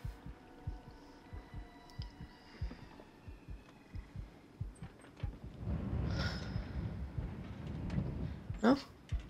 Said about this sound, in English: It's a heartbeat in the background, it's not helping.